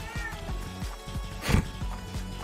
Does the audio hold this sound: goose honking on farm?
no